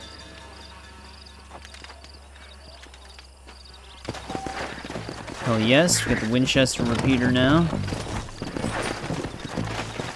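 Rhythmic horse hooves clip-clop along a dirt road in the Western video game Red Dead Redemption, faint and steady at first, then louder as someone talks over them.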